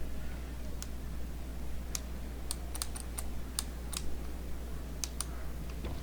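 Computer keyboard keys are pressed in sparse, irregular clicks over a steady low hum, close and crisp with no voices.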